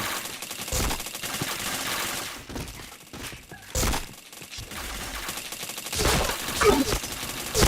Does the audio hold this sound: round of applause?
no